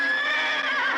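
A bareback horse gives a single sustained neigh, close and loud, a bright whinny that wavers slightly toward its end and fills the whole short moment.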